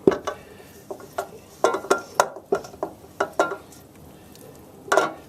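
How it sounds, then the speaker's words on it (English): Spatula scraping and pressing patching material into a wet rock casting, a series of short gritty scrapes and taps in uneven rhythm, close and fairly loud, with brief pauses and no talking. "I just scrub and force it into those spots"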